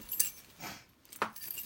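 Keys jangle briefly in a few quiet metallic shakes with short gaps between them, close by in a room.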